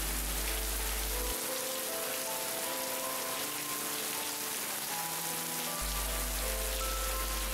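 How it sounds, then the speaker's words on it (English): Steady rain falls in an even, continuous hiss with no voices, joined at the start and end by a low sustained hum beneath the patter. "O sparkling rains, ye who fall from the skies to quench the thirsty ground"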